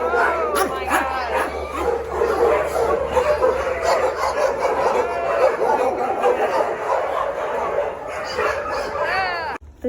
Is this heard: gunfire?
no